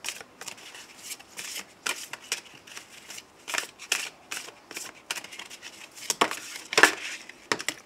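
Oracle cards are shuffled by hand in quick, irregular bursts of papery riffling and slapping, close and fairly quiet, with brief pauses between flurries and no speech.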